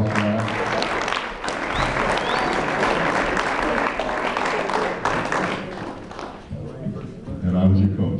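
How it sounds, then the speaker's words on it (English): Audience at a high school senior sports banquet gives a loud, dense round of clapping that fills most of the clip, then thins out as it ends. "Give him a round of applause for that."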